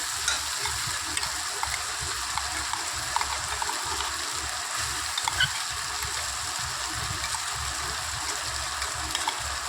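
Chicken cooking in a pan with coriander spice paste, a continuous soft sizzle and bubbling under repeated low thumping, scraping stirs, steady and close with no speech.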